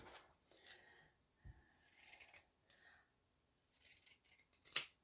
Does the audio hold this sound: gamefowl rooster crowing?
no